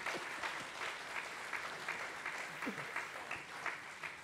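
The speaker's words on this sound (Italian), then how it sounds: "merita un applauso" An audience at a panel discussion breaks into applause, a dense, moderately loud patter of clapping sustained for a few seconds.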